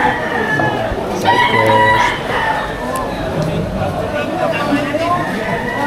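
Roosters crowing repeatedly at a cockfighting arena, loud and overlapping, amid clucking, crowd murmur and people talking nearby.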